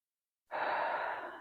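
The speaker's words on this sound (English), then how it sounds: "as I breathe in, I'm going to try to send my breath down" A slow, deep breath drawn in close to the microphone after a moment of silence, a steady airy rush that holds and gently fades.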